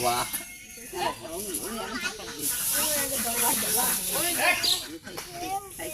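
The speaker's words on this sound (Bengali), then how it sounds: "তেল দেওয়া হচ্ছে আমাদের কড়াইয়ে এখন দেওয়া হচ্ছে তেল" Oil hisses and sizzles steadily in a karahi over a fire while people talk loudly over it throughout.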